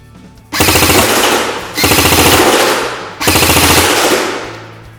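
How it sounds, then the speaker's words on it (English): A VFC HK417 airsoft rifle fires three loud, rapid full-auto bursts at close range, each a rattling string of shots lasting about a second or more, separated by short pauses. "Alright, now that the target's ready, I'm going to go ahead and fire those rounds."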